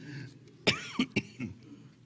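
A man coughs several times in quick succession, close and fairly loud, with short harsh bursts and a throaty clearing sound among them.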